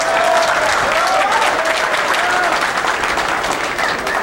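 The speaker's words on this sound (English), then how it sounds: "The applause that you hear is another quarterfinal match going on over here on the next table" Steady applause from a neighbouring table's quarterfinal match at the 1995 US Open 9-Ball Championship, a dense, continuous clapping that fills the whole stretch at close range, with some voices mixed in.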